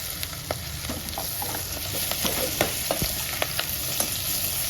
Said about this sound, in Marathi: आपण आता हा चिरून ठेवलेला दोडका टाकायचा